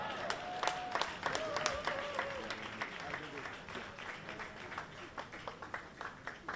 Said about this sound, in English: let's give one more warm round of applause for the Honorable Andrew Holness